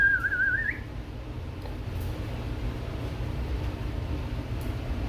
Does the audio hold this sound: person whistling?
yes